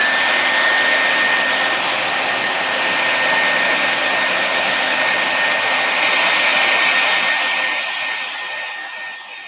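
A hair dryer blows steadily to dry a craft project, a loud, close, continuous whooshing hum with a thin whine that eases slightly as it moves away near the end.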